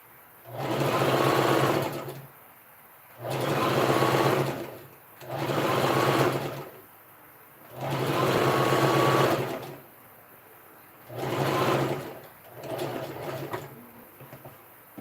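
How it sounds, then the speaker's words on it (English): A sewing machine stitches a princess dart dress seam in six bursts of rapid mechanical whirring, each lasting one to two seconds, with brief pauses between them, close and loud with no speech. "So I just stitched on this part, so I'll be stitching down the side."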